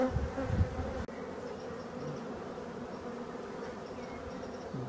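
Honeybees hum in a dense, steady buzz at close range while a hive is opened in a forest setting. The drone is continuous for the whole stretch, with a brief knock near the start and a few closer passes of individual bees.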